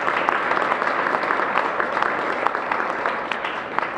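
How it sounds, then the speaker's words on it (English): Sustained applause from an audience at a mayoral press event announcing a new schools chancellor, a loud, even patter of many hands with no voices over it. "Give them a big round of applause."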